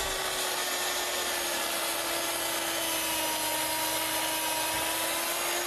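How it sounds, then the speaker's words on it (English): A power tool cuts away a scrap board during a Jersey Shore house rebuild, with a loud, constant grinding drone and a steady hum running unbroken throughout, with no speech. "You're gonna cut this scrap away?"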